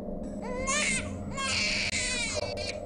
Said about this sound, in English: I've been practicing my best cry for when I come out.